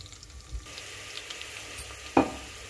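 Curry leaves and chillies sizzling in hot oil with a soft steady fry, close by, broken by a few stirring knocks and a sharper burst of crackle as something hits the pan.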